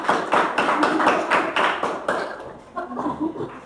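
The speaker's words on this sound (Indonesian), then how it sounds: "tepuk tangan." A classroom audience claps together after a student group finishes its presentation, a steady patter of many hands that is fairly close and fades slightly toward the end.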